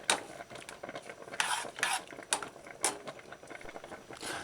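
Salt mackerel rundung with coconut milk being stirred gently in a pot, soft scraping strokes and light clinks in an uneven rhythm, close and fairly quiet.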